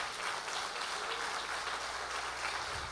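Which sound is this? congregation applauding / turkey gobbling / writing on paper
congregation applauding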